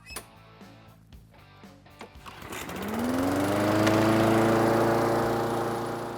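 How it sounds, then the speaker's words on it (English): A gas-powered lawn mower engine cranks over from its pull start and catches, rising into a loud, steady running drone that holds to the end. "While a well-maintained gas motor will still start up pretty easily, the pull start does require some effort."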